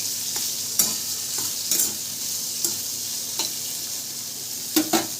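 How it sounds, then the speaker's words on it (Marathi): Bitter gourd frying for a dry sabzi, a steady close sizzle punctuated by a series of sharp spatula scrapes and stirs against the pan at irregular intervals, with no talking. "कारल्याची भाजी आपल्याला सुक्की बनवायची आहे फ्राय करून घेते अगोदर मस्तपैकी असे"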